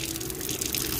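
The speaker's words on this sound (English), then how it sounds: "I can just put the hot water here" Hot water poured into a foot bath, a constant close gush of splashing liquid lasting the whole moment, with no voices.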